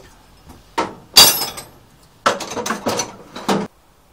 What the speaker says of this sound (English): Let's tap the pin home.